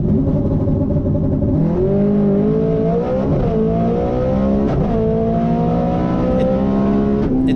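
Manual-transmission Mustang engine revving hard in an eighth-mile drag race, pitch climbing steadily then dropping sharply at each of several quick gear shifts, loud and continuous with no talk.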